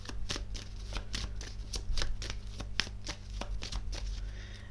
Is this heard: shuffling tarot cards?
yes